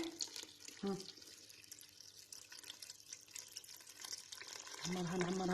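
Tap water runs into a pot holding orange pieces for making orange jam, a quiet splashing stream that swells and fades, strongest at the start and the end, with a voice talking over it.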